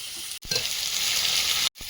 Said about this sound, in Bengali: আদা রসুন কাঁচা লঙ্কা ভাজা ভাজা হয়েছে এবারে পেঁয়াজ কুচি দিয়ে দেবো